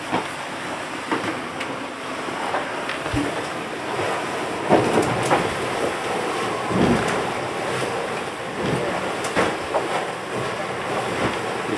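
A Fountaine Pajot Lavezzi catamaran crosses three-meter seas in thirty-knot winds, with steady roaring wind buffeting the microphone, rushing water, and periodic thumps as the hulls come over the waves.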